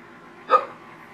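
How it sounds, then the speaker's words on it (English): A single short hiccup from a person, one quick sharp catch of breath rising out of quiet room tone. "Hiccup."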